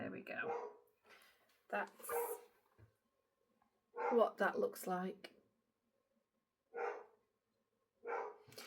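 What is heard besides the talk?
dog barking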